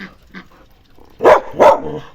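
A dog gives two loud, close barks after a couple of faint earlier yelps, in a quiet village yard.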